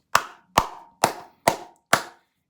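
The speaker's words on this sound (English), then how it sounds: "I'm talking about the claps. I'm talking about the round of applause." Five sharp, loud hand claps land close by at an even pace of about two per second, each one ringing briefly, with no voices.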